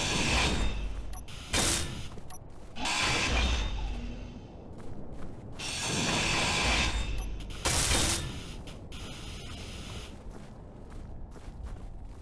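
Hand grinder shaving steel plates off a ship in Space Engineers, with repeated bursts of harsh grinding and clattering in several long pulses, loud and close, with a lull between them.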